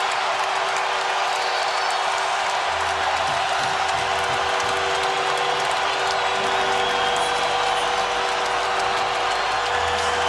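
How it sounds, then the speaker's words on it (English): A packed ice hockey arena crowd roars during the third period of a Stanley Cup playoff game after a goal, a loud, dense and sustained wash of cheering that holds for the full length without a break. "Well, that gets the crowd going here in the third period."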